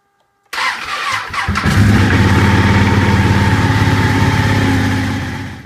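A cold Ducati Panigale motorcycle cranks briefly, then catches and fires up into a loud, steady, throbbing idle that carries on alone to the end.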